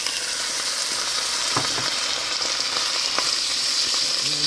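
Onions, serrano peppers and chilies sauté in a pot for Colorado green chili, giving a loud, steady sizzle and frying hiss with a few stirring scrapes and no talking.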